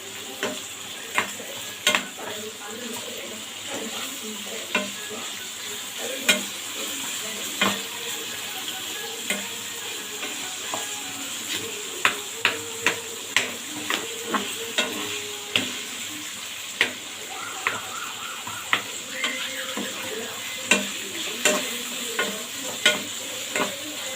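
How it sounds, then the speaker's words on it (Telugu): Green chillies fry in a pan with a steady close sizzle, punctuated throughout by sharp clicks and scrapes of stirring against the metal, with no talking. "మిర్చి ఎక్కడ కూడా మాడిపోకుండా మంచిగా వేయించుకుంటే సూపర్ టేస్ట్గా ఉంటుందండి"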